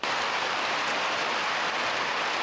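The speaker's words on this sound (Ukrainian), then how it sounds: "Ледве екіпаж рушає, починається злива." A heavy rain downpour falls in a war-torn town, a dense, steady roar of rain hitting surfaces, loud and continuous throughout with no voices.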